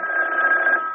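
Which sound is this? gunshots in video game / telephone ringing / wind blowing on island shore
telephone ringing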